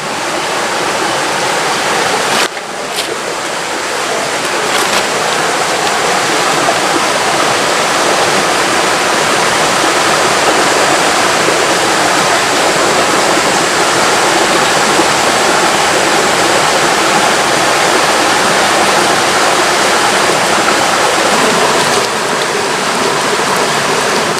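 Running water streams steadily over wood ear mushrooms as they are rinsed outdoors, a loud, continuous splashing rush that barely changes from start to finish.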